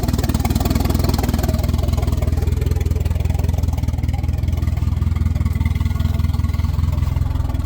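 A 1992 Volvo 460 turbo engine idles steadily, a low, even rumble with a fast regular pulse that holds throughout, close and fairly loud with no talking over it.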